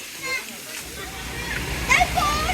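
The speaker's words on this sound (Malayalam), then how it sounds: "ഇവിടെ ഒരു വെള്ളച്ചാട്ടമുണ്ട്." A waterfall rushes near a spot where children bathe and catch small fish. The water hisses and splashes steadily, with a few sharper splashes, under close conversation.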